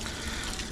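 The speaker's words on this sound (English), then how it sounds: "We're gonna get it full of water and vinegar again" Water gushes steadily from a tap into a cooking pot on the stove, a continuous rushing fill with no pauses and no voices.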